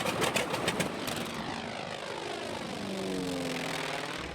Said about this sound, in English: I got to fly in the 1955 North American T-28.